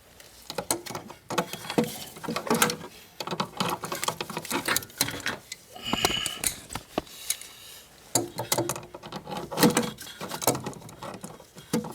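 Pliers squeezing and fitting a hose clamp onto the lower thermostat hose of a 2007 Chrysler Sebring 2.4L, with close, irregular clicking, scraping and metallic rattling handled at close range.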